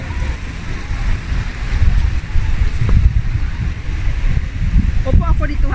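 Wind buffets a boat out on the water at Discovery Bay, a continuous rumbling gusty roar against the microphone, with voices faintly mixed in beneath the blustery noise.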